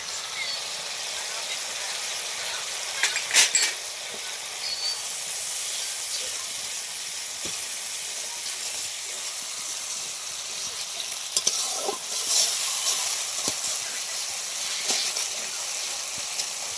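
Ground coriander and cumin paste frying in hot oil, a steady broad sizzle and hiss that keeps going throughout, with a few brief stirring clatters and scrapes near the pan and no talking.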